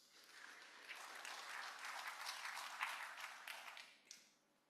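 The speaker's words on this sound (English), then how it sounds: "Please give them a quick round of applause." Audience applause for a conference panel, a brief round of clapping that swells, holds steady and then fades out, heard from within the room and faint overall.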